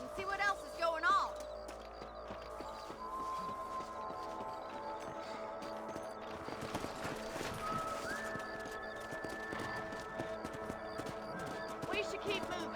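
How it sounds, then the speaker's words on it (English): Horse hooves clip-clopping in the video game Red Dead Redemption 2, a steady rhythmic trotting beneath layered game music, ambience and intermittent character voices. "Let's get back on the horses and see what else is going on."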